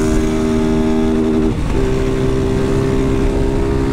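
A new 160 cc Start street motorcycle with a freshly fitted aftermarket exhaust runs close by on the street, its loud steady engine drone dipping briefly during a gear change before pulling on.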